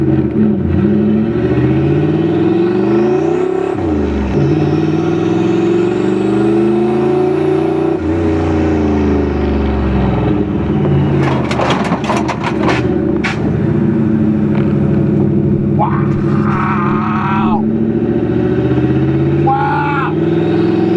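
A turbocharged Ford Crown Victoria 4.6 engine on a test drive revs and drones steadily, its pitch rising and falling through the run. A loud, continuous engine note sits close, and voices talk over it.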